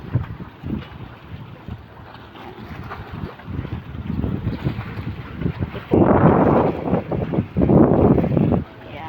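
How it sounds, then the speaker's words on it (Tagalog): Strong sea waves at a seafront crash and rumble in surges, building to two louder breaking bursts, heavy wind buffeting the microphone and a voice speaking intermittently over the surf. "lakas ng alon"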